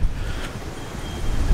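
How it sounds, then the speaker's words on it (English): Strong gusting wind at an outback airfield buffeting the microphone, a continuous low roar with rumbling bursts throughout, loud and close, with no talking. "That wind's picked up quite a lot actually."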